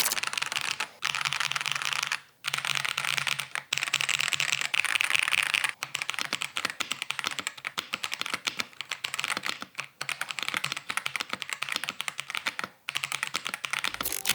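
Budget mechanical keyboard with yellow switches and a 5-pin south-facing RGB layout, typed on rapidly in close, dense clacking bursts with brief pauses and occasional deeper spacebar thocks, no voices.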